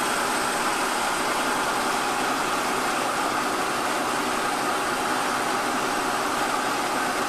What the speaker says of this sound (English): See the lathe up to speed there,